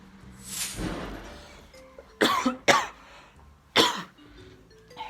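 Fake coughing done as a prank: one person lets out a string of short, dry, forced coughs and throat clears, close to the microphone, in separate bursts with quiet gaps between them.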